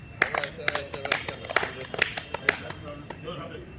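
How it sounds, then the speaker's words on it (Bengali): Hands clap in a steady rhythm during a morning workout exercise session, about two sharp claps per second, with voices heard faintly underneath. "সুন্দর করে হাততালি"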